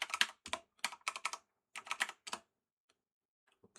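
Quick bursts of clicky keystrokes as a username and password are typed on a computer keyboard, several clustered taps, then a pause with a few faint stray clicks.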